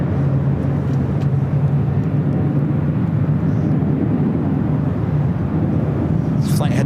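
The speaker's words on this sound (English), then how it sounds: "Another Delta 767 pushing back." A 27-year-old Delta Boeing 767-300ER pushes back at LAX, producing a loud, steady, close jet roar that holds evenly throughout.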